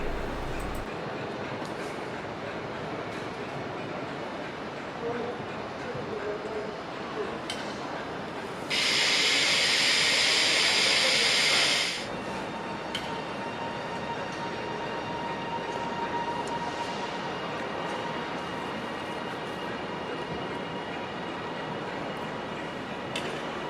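A southbound TransPennine passenger train passes at a steady, moderate distance, a broad rumbling roar that holds for the whole stretch, with a sharp bright hiss bursting in for a few seconds midway.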